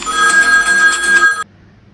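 A telephone ringtone trills loudly and close during a radio call-in show, a repeating electronic ring pattern that cuts off abruptly, leaving a quiet line.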